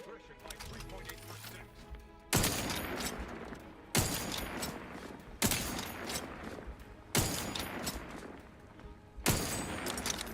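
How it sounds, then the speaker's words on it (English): Submachine gun fire in a first-person shooter video game, heard as five loud, sharp bursts spaced roughly every one and a half seconds, each decaying briefly after a quieter stretch of background game sound. "Let's use the SMG in the middle here."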